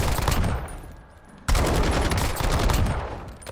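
AMAX assault rifle fired in a video game at a 25-meter target, two long rapid automatic bursts, loud and close, separated by a brief pause.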